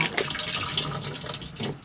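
The flush of a cassette toilet in a Swift Sundance 630L caravan: a continuous close rush of running water, even in level, with no talking.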